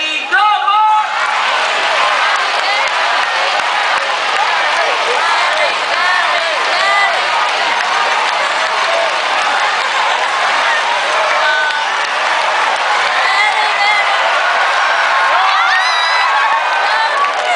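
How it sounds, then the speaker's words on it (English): Audience at a bird show in Jurong Bird Park, Singapore, cheering, whooping and clapping loudly and continuously after being urged on, with a brief voice at the start. "Barry supporters, cheer much louder this time"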